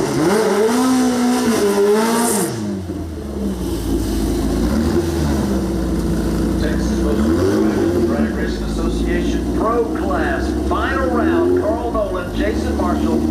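Loud racing engines roar and rev at Texas Motorplex drag strip, their pitch swooping up and down, with a commentator talking continuously over the noise.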